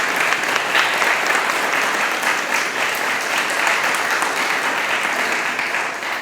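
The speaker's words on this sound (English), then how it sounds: "let's give these new inductees a round of applause for their hard work" An audience at a school Beta Club induction ceremony gives new inductees a sustained round of applause, dense steady clapping from many hands that holds at an even level throughout.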